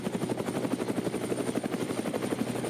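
A helicopter flying over the Nürburgring circuit, with a close, steady rotor thump beating in a fast even rhythm and no talk.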